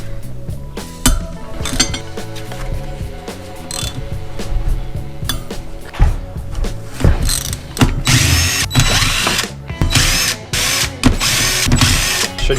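Ratchet clicking in quick bursts while a front brake disc axle is worked loose on a Honda CB500 café racer, with metallic clinks and tool clatter between runs, close and fairly loud throughout.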